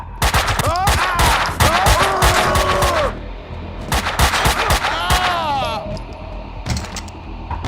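Rapid bursts of gunfire crackle in close, loud volleys with ricochet-like whines, pausing briefly before another barrage of shots.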